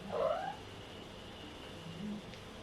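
A cat gives one rising meow near the start, followed by quiet room tone and a faint, brief second vocal sound near the end.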